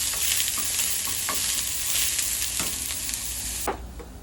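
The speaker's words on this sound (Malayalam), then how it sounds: "എന്നിട്ട് അത് നല്ല ബ്രൗൺ ആവുന്ന വരെ സോട്ട് ചെയ്യുക." Sliced onion with curry leaves sautéing in a pan, a continuous close bright sizzle with occasional stirring scrapes and a drop in intensity near the end, no voices.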